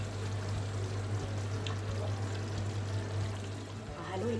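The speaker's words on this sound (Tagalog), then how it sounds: "Pwede na po natin ilagay ang ating gata." Coconut milk poured into a simmering chicken curry, a steady soft liquid stream and trickle running throughout under a constant low background hum.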